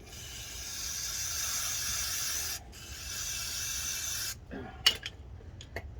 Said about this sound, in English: so you can just always spray it